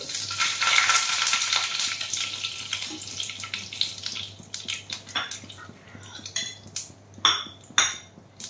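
Cumin seeds and garam masala tempering sizzle in hot oil while a vegetarian stuffed pointed gourd dish is being made, giving a steady loud crackle that thins into sporadic spits and pops alongside a few utensil clinks.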